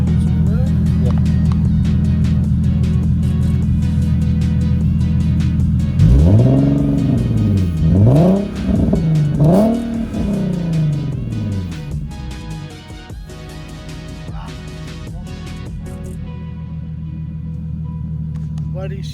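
Car fitted with polyurethane transmission and motor mounts and test pipes idles with a deep steady rumble, then revs through several rising and falling throttle sweeps before settling back to idle, with faint voices nearby.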